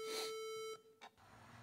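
An answering machine gives a single clear electronic beep before a new message plays, a steady tone lasting most of a second, then a couple of faint clicks in a quiet room.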